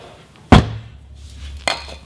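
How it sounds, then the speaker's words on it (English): A car door slams once with a loud, close thud, followed by a softer second knock about a second later. "Go ahead, shut the door"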